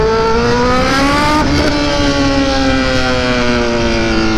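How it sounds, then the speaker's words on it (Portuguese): A Honda CB1000 motorcycle engine roars loudly and close, its harmonic whine rising and then dipping briefly around a gear change before holding a steady, powerful drone throughout. "O ronco dela é muito alto, a moto é muito forte."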